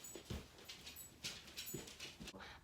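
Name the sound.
dog crying, whimpering to be let out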